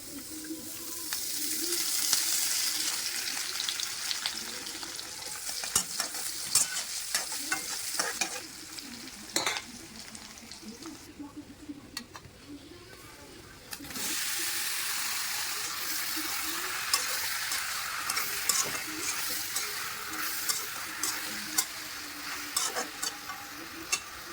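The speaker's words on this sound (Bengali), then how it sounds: "আর গ্যাসের চুলায় কড়াই বসিয়ে দিছি, সেটার মধ্যে কাঁচামরিচ পেঁয়াজ কেটে দিয়ে দিছি।" Chopped onions and green chilies fry in a wok on a gas stove, a soft continuous sizzle punctuated by frequent spatula clacks and stirring scrapes, quieter for a stretch midway before picking back up.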